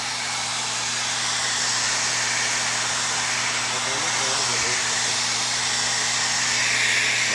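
New hair blower running with a steady, loud, broadband whoosh and a low motor hum throughout, no pauses.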